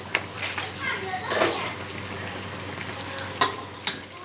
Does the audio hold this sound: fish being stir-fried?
yes